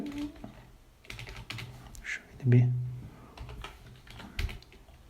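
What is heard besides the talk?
typing on a computer keyboard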